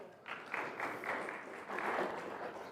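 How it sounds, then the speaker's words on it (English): Applause from a church audience, a soft, somewhat distant patter of clapping that swells slightly and holds steady for a few seconds. "Give Eric a round of applause."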